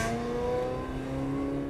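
A Ferrari 360 Modena's flat-plane-crank F131 V8 with titanium connecting rods revs inside a tunnel, giving a sustained, echoing whine whose pitch climbs and holds, moderately loud and without talk.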